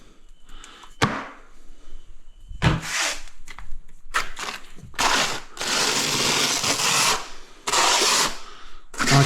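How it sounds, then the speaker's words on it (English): A 15mm notched trowel spreads adhesive for 600x600mm porcelain floor tiles, producing repeated close scraping strokes of varying length, loud and broadband, with short pauses and knocks between passes. "So I'm using a 15mm trowel."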